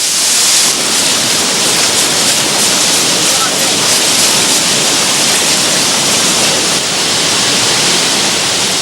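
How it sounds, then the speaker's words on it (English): A jungle waterfall pours steadily and loudly, a dense unbroken roar of falling water close by with no pauses. "A waterfall with all mod cons."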